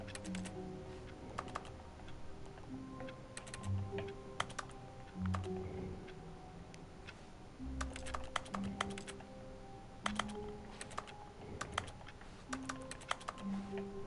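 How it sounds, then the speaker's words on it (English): Office computer keyboard typing from the video game The Stanley Parable, quiet irregular bursts of key clicks repeating throughout over a soft ambient hum and low tones, with no talking. "It still sounds like I'm typing."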